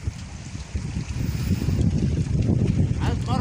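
Wind and churning sea noise build to a loud, steady roar, with muffled voices faintly underneath.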